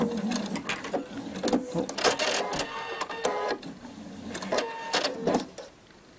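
A sewing machine stitches three stacked fabric layers along the long edge of a homemade kimono, running in several rapid mechanical bursts separated by short pauses, close and fairly loud.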